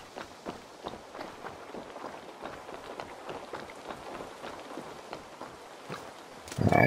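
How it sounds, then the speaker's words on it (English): Rain falls in the video game Assassin's Creed Valhalla, a steady faint patter of drops with rhythmic footstep-like taps, ending in a brief louder burst. "Damn it, it's raining."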